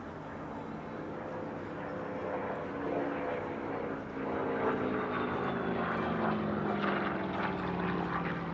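A restored vintage propeller airplane at the Paris Air Show, its engine droning steadily and growing slightly louder as it passes, with faint background voices and crowd murmur.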